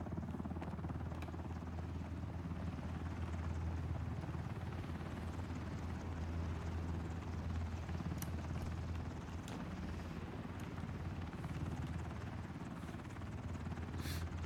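A helicopter in the video game Ring of Elysium, a steady low rotor drone holding at a faint, even level throughout with no talk over it.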